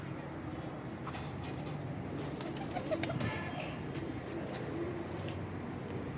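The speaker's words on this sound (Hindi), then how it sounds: "वेखो चारों कबूतर बैठे पता लगता कबूतर बैठे" Four pigeons sit together and coo softly, the low burbling calls faint under a constant background hiss, with a few sharp clicks partway through.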